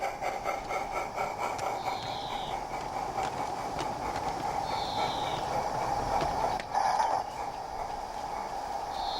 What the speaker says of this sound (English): we are now standing on the platform beside the mid-afternoon passenger as the up pickup goods arrives